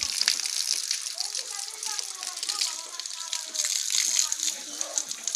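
Water sloshes and splashes as fish are washed in a tank in a village setting, a close, continuous wet rattling with bright splashes, under a voice speaking.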